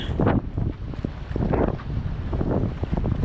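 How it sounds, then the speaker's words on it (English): Wind gusts across the microphone while a sailboat is under way, a steady rushing roar with a few stronger buffets and faint water noise underneath. "it's a little bit windier than I thought it would be"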